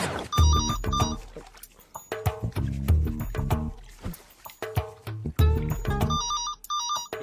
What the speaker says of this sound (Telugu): ఏమంటే ఫోన్ ఎత్తండి, ఖాళీగానే ఉన్నారు కదా.